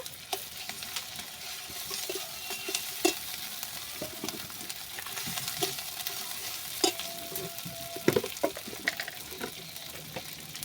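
Chicken fried to a reddish brown, with ginger-garlic paste added, sizzles steadily and close in a pan, broken by repeated spatula scrapes and stirring clatter, with no talk.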